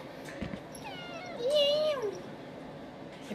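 A pet cat meows for attention, giving one drawn-out, rising then falling meow, close and clear over a quiet room.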